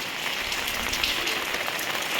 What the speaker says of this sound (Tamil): மழை இந்த மாதிரி மழை தொடர்ச்சியாக பேஞ்சிக்கிட்டே இருக்குது